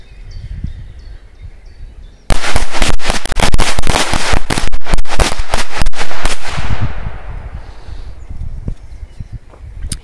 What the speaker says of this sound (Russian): Есть супер классные взрывы.